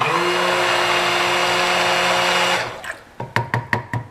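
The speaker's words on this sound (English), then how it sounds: "I'm going to just mix this up real quick" A stick blender whirs steadily while mixing colorant into cold process soap, then cuts off and is followed by several sharp knocks and taps, likely the blender against the container.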